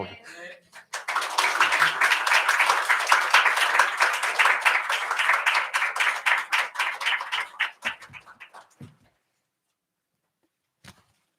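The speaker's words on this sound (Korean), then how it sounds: "오실 때 격려의 박수 한번 올려드리면서" A church congregation claps in welcome as a missionary to Patagonia, Chile comes forward, a dense burst of applause lasting about eight seconds before thinning into scattered final claps and silence.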